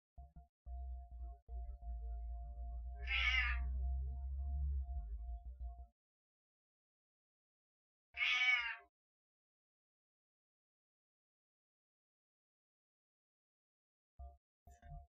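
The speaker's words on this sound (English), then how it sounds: "Do you guys want to hear Claudia meow for the rest of the stream" Cat meowing twice, short distinct meows separated by quiet gaps, the first over a low hum and the second alone.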